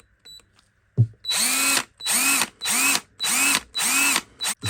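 Parkside 20V cordless drill motor spinning up in five loud, even bursts of about half a second each, with short pauses between, close by and with no voices.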